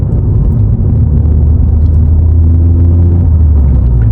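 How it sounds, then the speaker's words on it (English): A VW Polo 1.2 TSI (66 kW) with a Powerflow exhaust drives on a mountain road, its engine a loud, steady low rumble with a droning exhaust tone that rises slightly in pitch toward the end, with no voices. "I can't get enough of the sound of this car."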